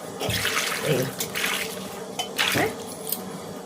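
Water goes into a hot tempering in a pan for bommidi fish curry, giving a few loud, splashy sizzling bursts with short pauses between them.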